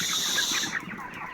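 Chickens on a winter poultry farm cluck and chatter in a busy overlapping flock, close and fairly loud, thinning out toward the end.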